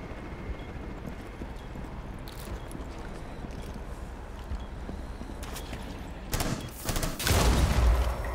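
Rapid gunfire from the video game Rainbow Six Siege, a burst of loud shots crowding the last second and a half, following a long stretch of steady, low in-game rumble.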